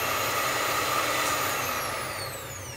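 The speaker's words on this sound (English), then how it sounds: "I'm just going to put it on high speed, just so we can get all the batter off the mixer blades." An electric mixer whirs at high speed through cookie batter for rocky road cookies, a steady close motor whine that fades slightly toward the end, with no talking.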